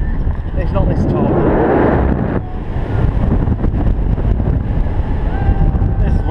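Strong wind buffets the microphone in rough, roaring gusts at Flamingo Land theme park, with a brief lull partway through and muffled voices underneath.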